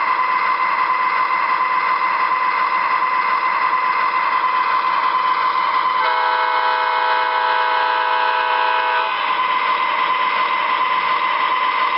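An MTH RailKing Canadian National ES44AC model diesel locomotive reverses with a steady droning engine hum, and a chorded horn blares for about three seconds midway before the drone continues alone.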